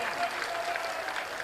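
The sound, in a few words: audience clapping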